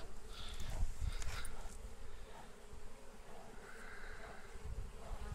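Honeybees buzz in a steady, close drone around a hive entrance among heather in England, mixed with wind noise and no talking.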